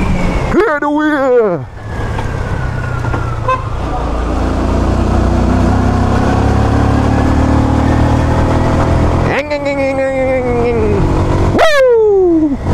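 Jamco T 200 motorcycle engine revving and accelerating close by, with rising and falling pitch sweeps as it pulls away and shifts, a steady roar throughout, and voices talking over it.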